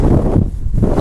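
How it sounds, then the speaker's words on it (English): Strong wind gusting across an open farmyard near a shed, sustained around 35 mph with harder gusts, a loud steady buffeting roar that dips briefly and then surges back, with no voices. "it's so windy today, it's like 35 mile per hour winds, gusts up to 45"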